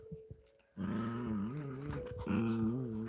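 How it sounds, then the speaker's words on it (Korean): A dog growls steadily and loudly at close range, with short whimpering and yipping sounds before the growl takes over, and no other sound around it. "할머니한테 가서 짖지 마."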